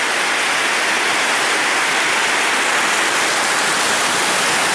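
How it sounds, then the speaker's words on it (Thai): Heavy rain pours down on a walking street in Pai, Thailand, a loud, steady, dense hiss of downpour with no break and no voices. "ฝนตกอย่างหนัก"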